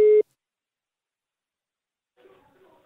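A single short electronic tone of an outgoing telephone call sounds once at the start, then silence, before a faint voice begins to speak at the end.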